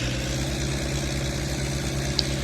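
A noisy farm tractor engine runs at a steady idle nearby, a loud throbbing low rumble with a regular pulse and no talk.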